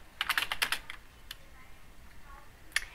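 Fingers type on a computer keyboard, quick clusters of light key clicks followed by a pause and a few isolated taps, close and fairly quiet with no talking.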